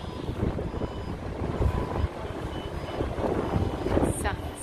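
A passenger airplane comes in low overhead to land near a road in Turkey, a broad roaring rumble swelling over steady wind noise, with a faint high whine toward the end.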